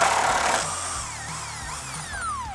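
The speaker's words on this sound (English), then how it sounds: "We need an 18mm socket on an impact. We'll go ahead and just run this one out" Impact wrench with an 18mm socket running out a long body mount bolt on a Jeep Wrangler JL during a rock slider install, a loud continuous whirring and buzzing burst heard alone and close.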